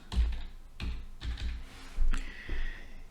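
Keys clacking on a computer keyboard while a title slide is filled in during a Microsoft PowerPoint tutorial; several separate bursts of close, crisp taps with short pauses, no talking.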